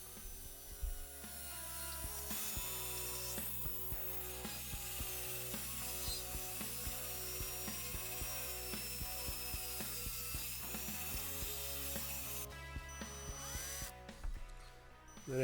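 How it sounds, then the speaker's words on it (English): A small drill boring a 1.5 mm pilot hole into a rivet on a Matchbox Lesney Superfast No.59 Mercury Fire Chief die-cast toy whirs continuously with a steady high whine and grinding texture, close up, slowing at the end. "we'll drill a little pilot hole of"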